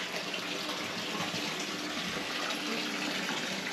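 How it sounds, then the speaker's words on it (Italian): Water runs into a small fountain inside a nativity scene, making a steady close trickling and splashing wash with no voices. "Vedete la fontana? Con l'acqua, tutte le casette"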